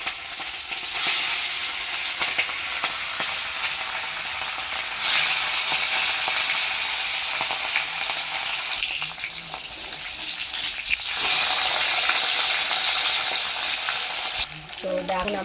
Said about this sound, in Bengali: তো দেখো এবার সাদা অয়েল দিয়ে মাছটা আমি ভাজে নেব।